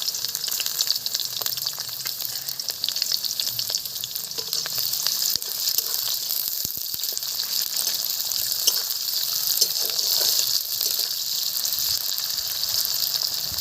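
Chopped onion sizzling steadily in hot oil with chilli and bay leaf, a continuous close frying hiss with occasional crackles, no talking.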